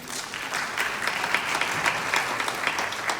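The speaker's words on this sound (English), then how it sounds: "Would you give them a round of applause?" A seated audience at a realtors' association mayoral forum applauds steadily for about three seconds, a dense, even patter of many hands with no voices over it.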